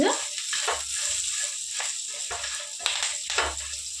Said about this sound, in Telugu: పచ్చి కరివేపాకు నేను కొంచెం ఇట్లా ముక్కలుగా పింపేసి వేస్తున్నానండి